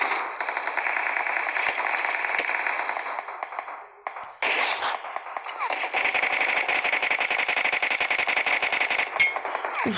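Loud, sustained automatic gunfire in an online shooter video game, with rapid continuous bursts, a short dip around the middle, and heavy fire resuming to the end.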